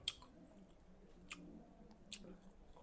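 Someone chews crispy fried surmai fish at close range: soft, wet mastication with a few sharp crunchy bites, quiet and intimate, no talking.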